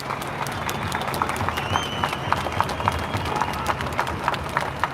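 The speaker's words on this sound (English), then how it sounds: "a big round of applause to them" A crowd at a firefighters' and farmers' protest in Melbourne applauds steadily, many hands clapping in a dense patter with a few sharper claps standing out.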